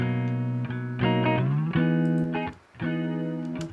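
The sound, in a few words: electric guitar with chorus effect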